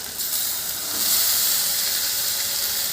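Potatoes and mushrooms go into hot spiced oil in a rural Bengali home kitchen, giving a steady, close hissing sizzle that swells slightly and holds without pause.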